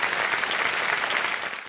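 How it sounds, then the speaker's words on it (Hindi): Studio audience applause on the set of Kaun Banega Crorepati, a dense, steady burst of many hands clapping at once that holds loud and even before easing slightly at the end. "एक बार जोरदार तालियां हो जाए अर्चना जी के लिए।"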